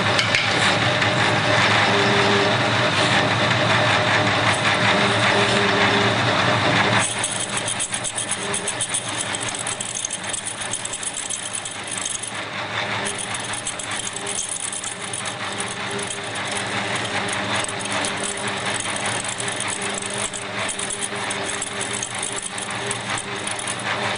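A lathe machines a brass ornamental flask cap in a loud, continuous metallic whir that shifts slightly in tone partway through and then runs on steadily, close up with no voices.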